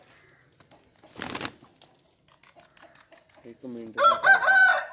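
A fighting rooster crows loudly near the end in a Punjab village, a rising then sustained call after scattered rustling and a brief burst of handling noise; a voice speaks briefly before it.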